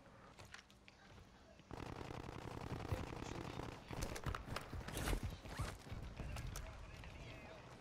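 Rapid automatic gunfire bursts sound in the Warzone video game, a sparse rattle that becomes dense and loud after the first couple of seconds, with a voice talking over the shooting.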